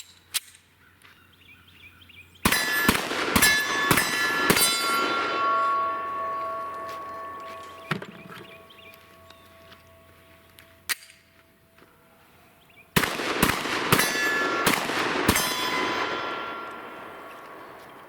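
Springfield XDM 3.8 and Glock 29 10mm pistols fired outdoors in two rapid strings of about five loud sharp shots each, with ringing echoes between and a few isolated cracks.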